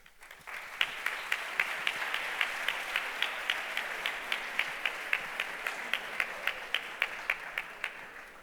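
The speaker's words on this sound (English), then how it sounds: "so give them a round of applause," Applause at a hackathon closing ceremony for a winning team, a quiet, steady patter of many hands with a few sharper claps close by standing out in a regular rhythm.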